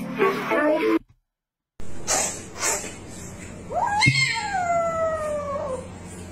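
A cat meows in a short online clip, one drawn-out, sliding call rising and then falling, heard close over background noise after a brief gap of silence, with a voice speaking faintly around it.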